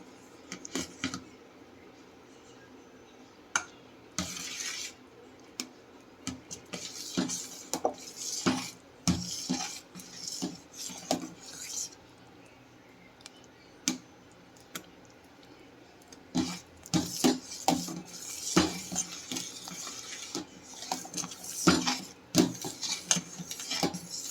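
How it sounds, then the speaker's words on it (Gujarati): Spoon stirring a powder mixture in a pot for homemade Frooti mango drink, irregular clinks and scrapes against the vessel coming in bursts, close and fairly loud with quiet gaps between. "આપણે આને સારી રીતે મિક્સ કરી દઈએ।"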